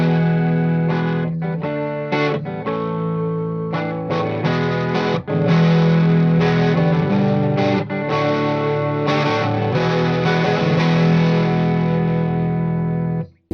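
A 2014 G&L Fallout electric guitar with a humbucker plays through an amp, strummed chords and single notes ringing out loud and close in uneven phrases, with a thick, slightly driven edge and brief pauses between passages.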